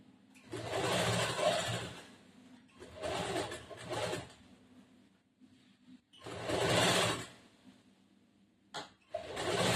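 A sewing machine stitching the side seam of a cross-cut blouse runs in three bursts of rapid mechanical whirring, close and loud, separated by quiet pauses, with a short final burst at the end.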